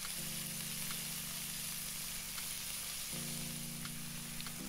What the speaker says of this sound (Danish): Steg først kødet i olie på en pande